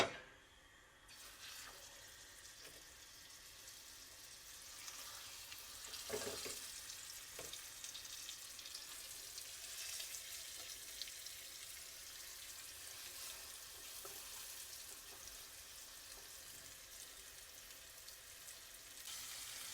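Dredged chicken frying in a pan for chicken marsala, a faint, steady sizzling hiss with a few soft crackles and clatters.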